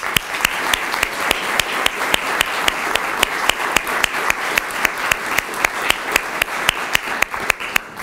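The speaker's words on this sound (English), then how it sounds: "I'd like to give one final round of applause for all of today's award recipients." An audience at an education awards ceremony applauds the award recipients, a steady round of many hands clapping with sharp, evenly spaced claps standing out near the front, sustained for the whole stretch.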